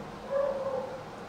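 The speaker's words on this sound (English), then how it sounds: "I know you can hear my dog upstairs" A dog upstairs gives a single drawn-out bark or whine-like yelp lasting about half a second, muffled and moderately distant, set against a quiet room hum.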